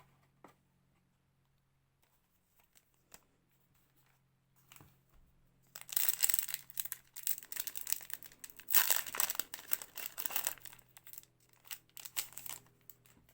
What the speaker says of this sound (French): On va passer au dernier booster à ouvrir dans cette ouverture.